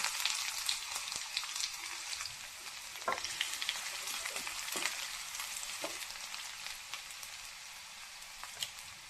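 Onion goes into hot oil with mustard seeds already in the pan, producing a moderate, steady frying crackle with scattered small pops and stirring scrapes, no talk.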